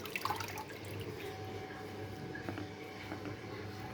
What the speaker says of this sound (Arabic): وانا بشيل البقدونس من الميه بالمنظر ده